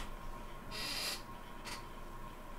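A bird creature in the Minecraft mod RLCraft gives two short, bright screeching calls, one longer and one brief, heard clearly over a faint steady background hum.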